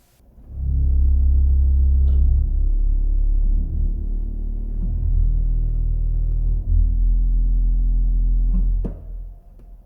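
The tallest 16-foot pipe of a church organ sounds a deep, rumbling low tone that swells in, holds steady for several seconds with a slight shift in pitch, then releases.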